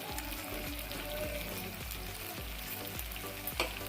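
Curry masala paste for a drumstick and tomato curry sizzles in a pan while being stirred, a steady loud frying hiss with repeated soft scraping strokes of the spoon, no talking.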